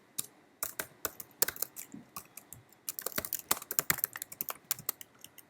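Python code typed on a computer keyboard: irregular bursts of crisp, close keystroke clicks with brief pauses between words, no talking.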